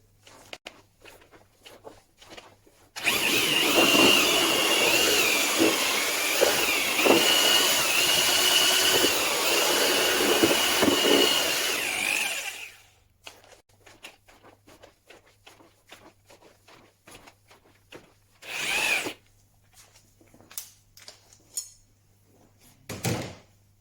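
A power mixer churning sawdust and coffee grounds for briquettes, a loud, steady whirring grind that runs for about ten seconds, then cuts out, leaving scattered clatter, footsteps and a short later burst.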